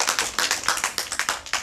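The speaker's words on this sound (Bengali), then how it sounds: "তারপর সবাই হাততালি" A group claps hands in unison at a yoga and Ayurveda event, about ten sharp, evenly spaced claps in a quick steady rhythm, close and moderately loud.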